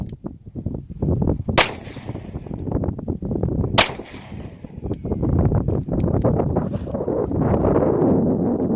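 Two sharp gunshots from a handgun on a shooting range, about two seconds apart, each with a brief echo tail, over steady wind noise.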